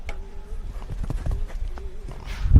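Show jumping horse hooves thud in a quick rhythmic canter-gallop on an arena surface at a World Cup qualifier, steady beats building slightly louder toward the end, with a voice commenting over them.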